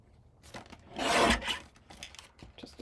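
Scissors or a blade cut through paper for a mini album pocket, a quiet rasping scrape that swells into one louder stroke midway, with faint small rustles before and after.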